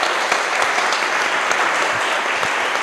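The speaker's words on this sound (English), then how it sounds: "maybe we can close this session with a round of applause to the speakers" An audience at an academic session on the Mexican economy gives the speakers a steady round of applause, dense, even clapping throughout at close range.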